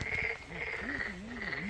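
Frogs croak loudly and continuously in a Daegu arboretum, with a steady rising and falling chorus of calls close by and no talking.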